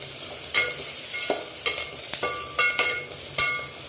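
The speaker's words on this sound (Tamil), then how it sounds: "கட் பண்ணி வச்சுருக்க பெரிய வெங்காயத்தை உள்ளே சேர்த்துக்கோங்க. ஒரு 2 நிமிஷம் அடி பிடிக்காமல் நல்லா கிண்டி விடுங்க" Chopped large onions frying with mustard seeds in a pan, stirred in quick scraping strokes over a steady crackling sizzle, close and fairly loud.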